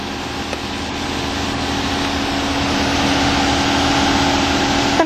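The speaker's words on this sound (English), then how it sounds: "Beautiful sounding Hemi." A 2012 Dodge Charger R/T's Hemi V8 idles steadily at a low, even rumble, with a faint hum that grows slightly louder over a few seconds.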